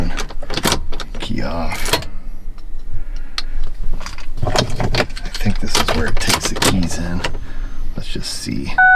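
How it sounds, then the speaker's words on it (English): Keys jangle and click near a Ford Fusion ignition as one key is pulled and another inserted, short metallic rattles in bursts amid cabin sounds and occasional speech. "key off, stick the other key in"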